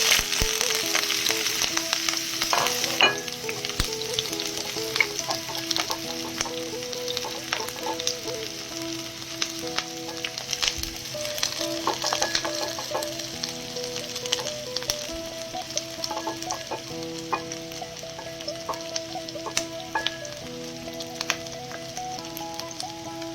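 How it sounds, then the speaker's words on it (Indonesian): Shallots and garlic sauté with pork small intestines in a pan, giving a dense, steady crackling sizzle with scattered pops and occasional stirring sounds, close and continuous throughout. "Jadi kita tumis dulu, kita punya bawang merah, kita punya bawang putih tadi"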